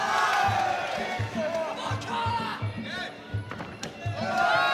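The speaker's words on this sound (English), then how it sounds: "The Dominance crowd cheering Carter on." A large indoor crowd at a Muay Thai event roars and cheers steadily, with a commentator talking over it and sharp thuds and slaps from fighters landing blows.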